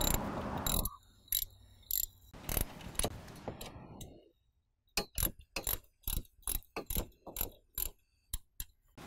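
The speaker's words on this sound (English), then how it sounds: "I've found it's a lot easier to get a socket wrench with the half inch head here." A ratcheting socket wrench with a half-inch head tightens a bolt on a trailer hitch fan pole mount, giving a quick train of sharp, close metallic clicks in short repeated bursts after some earlier clattering handling noise.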